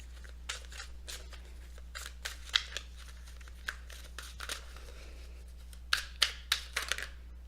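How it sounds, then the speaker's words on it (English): Messenger Oracle cards handled close up, with a series of soft crisp snaps and flicks scattered through the stretch, clustering toward the end over a steady low hum. "let's take a look at your Messenger Oracle cards."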